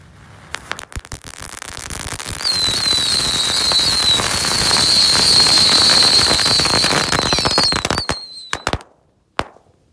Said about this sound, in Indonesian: Eksperimen menyalakan semua mercon menjadi satu.